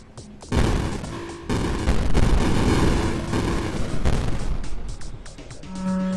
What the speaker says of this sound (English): to see everything blow up. I like the explosions enough.